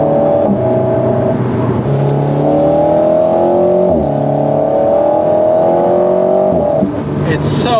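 An Alpine A110 Légende GT sports car engine drones loudly and climbs in pitch under acceleration, with a brief dip as it changes gear, and someone talks over it.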